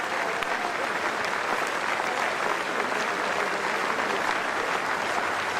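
A cricket crowd at the Basin Reserve in Wellington applauds steadily during a Test match between New Zealand and India, the dense clapping sustained and loud throughout.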